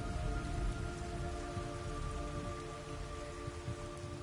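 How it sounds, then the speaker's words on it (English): Steady red rain pours throughout in the video game Metal Gear Solid Delta: Snake Eater, a dense hiss of drops with a faint low rumble and a few sustained tones beneath it. "It's raining blood."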